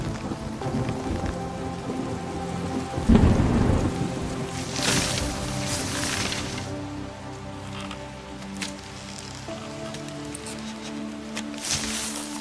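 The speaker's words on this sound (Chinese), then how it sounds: "大雨突如其来，让今年的第一次猎蜜被迫终止" Sudden heavy rain pours down during a honey-hunting trip, with steady hissing downpour on surfaces and foliage and a loud thunder rumble early on, then continuing patter of drops.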